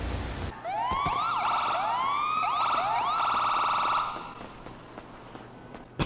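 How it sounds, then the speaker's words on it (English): A police car siren wails in quick rising and falling sweeps, loud and close, for about three and a half seconds before cutting off. Quiet background follows, with no one talking. "it was just the lights and sirens"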